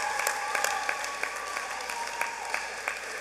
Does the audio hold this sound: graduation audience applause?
yes